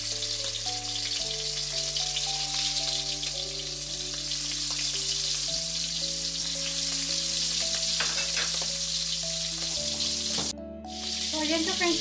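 Shrimp frying in a wok, an even loud sizzle running throughout under steady background music, with one brief dropout near the end.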